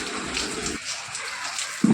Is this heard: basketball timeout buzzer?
no